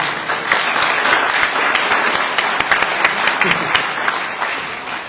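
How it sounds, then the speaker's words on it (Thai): Audience applause at a Thai political press conference following a meeting with an SME federation, a steady dense wash of many hands clapping that holds throughout at close, even loudness. "ขอเสียงปรบมือเลยครับ"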